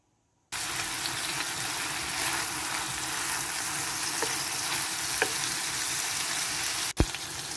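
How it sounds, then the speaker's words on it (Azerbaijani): Meat fries in olive oil in a pan, a loud, continuous close-up sizzle that starts abruptly and crackles steadily, ending with a sharp click. "Ətimizi də əlavə edib qızardırıq."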